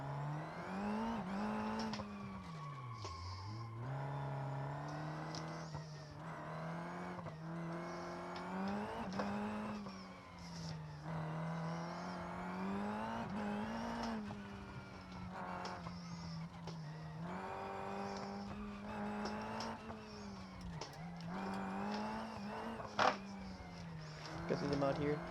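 A racing car with an automatic transmission drives in the BeamNG.drive video game. The engine rises and falls in pitch through repeated shifts, with occasional tire noise, steady and fairly close throughout.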